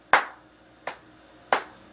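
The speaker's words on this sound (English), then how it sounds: "the dude, this one guy starts clapping out of nowhere" Three sharp hand claps from a lone man in a tense film scene from The Hunger Games: Mockingjay, spaced slowly and unevenly, each a crisp close smack standing out against a quiet background.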